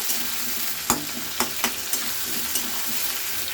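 Diced potatoes frying with onions that have not yet browned, a steady close sizzle punctuated by about six distinct scraping stirs, with no voices.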